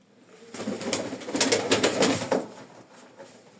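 Soft, repeated cooing of young domestic pigeons, a few overlapping coos rising and falling over a couple of seconds in a quiet space.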